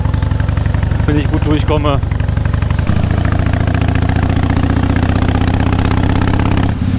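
Harley-Davidson motorcycle on the move, its engine a loud steady low rumble that persists throughout with a shift in pitch partway, while a rider speaks briefly over it.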